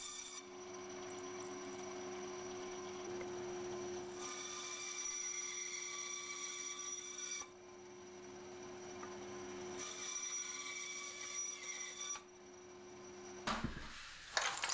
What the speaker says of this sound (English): So I measure it, set the fence on the bandsaw, and start cutting all the pieces.